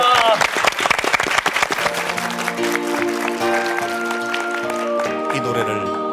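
Audience applause breaks out as a man is about to sing a song for his wife, with scattered clapping up front giving way to sustained tones of a backing track and a voice over it.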